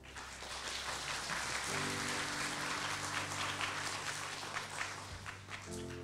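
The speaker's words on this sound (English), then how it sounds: "Please provide a warm applause for the chair, Professor Park." Faint audience applause fills a conference hall at an ICCE-Asia 2018 opening ceremony, welcoming the session chair as a steady, distant patter of many hands over a low electrical hum.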